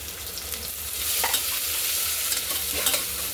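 Onion sautéing in a hot pan with green chillies, curry leaves and ginger-garlic paste, a steady close sizzle with light stirring scrapes, no voices.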